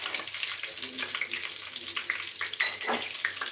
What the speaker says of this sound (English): what we are doing now is we are stir frying those garlics